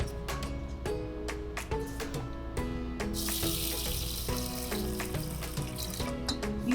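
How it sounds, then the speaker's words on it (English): Rice for onigiri is rinsed in water with a washing tool, giving a continuous close splashing and swishing with small clinks throughout. "Now we are going to wash the rice."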